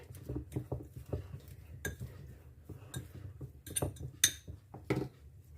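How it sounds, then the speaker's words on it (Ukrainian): A fork mashes a baked potato in a dish with soft, irregular scraping and tapping, broken by a few sharper clinks of metal on the plate. The sounds are close but quiet. "яку ми витягнули, ми розминаємо видалочкою"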